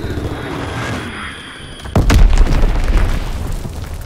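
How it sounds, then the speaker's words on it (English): A bomb explodes in the World War II shooter Call of Duty WWII, a deep boom hitting at the two-second mark and rumbling on loudly, with faint background game ambience before it. "Enemy bomb incoming. Get to cover."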